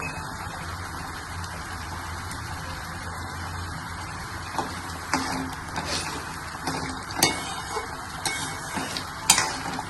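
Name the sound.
curry simmering in a pot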